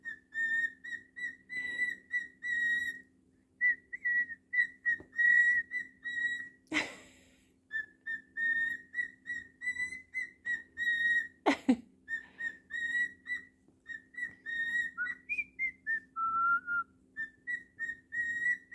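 A cockatiel whistles a melodic tune in short repeated phrases, bright and clear, with a couple of sharp clicks and a soft background hum.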